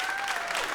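Audience applause fills a comedy club at a stand-up show, a dense steady patter of many hands clapping at once, fairly close and continuous through the short moment with no voice over it.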